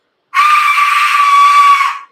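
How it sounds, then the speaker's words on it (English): An Aztec death whistle is blown once, letting out a loud, piercing, scream-like shriek that holds steady for about two seconds before cutting off. "this is a death whistle. This is what this entire production company is named after, because it's an Aztec death whistle,"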